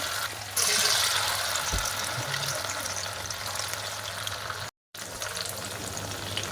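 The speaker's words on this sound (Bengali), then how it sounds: "তো এভাবে বড়ার মতন করে ভেজে নেব।" Hand-shaped fritters frying in oil over a low flame, a continuous close bubbling sizzle broken by a brief moment of silence.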